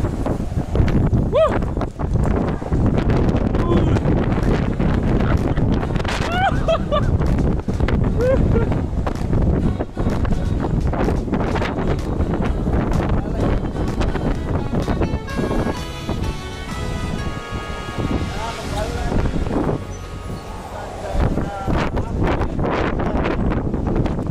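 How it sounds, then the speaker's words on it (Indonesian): Strong, cold wind roars steadily into an outdoor microphone, loud and broadband throughout, with occasional thumps and clatter that may be hooves, and brief voices underneath. "Dengar gak suara anginnya? Ini dingin banget, serius."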